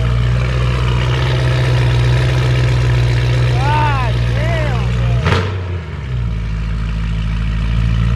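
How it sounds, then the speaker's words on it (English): A BMW E92 M3 with an aftermarket exhaust idles loud and deep, steady, with a rumbling exhaust drone; someone speaks briefly over it, and a sharp click cuts through midway. "See, that's what I miss. The E92 sound. It's so loud, bro."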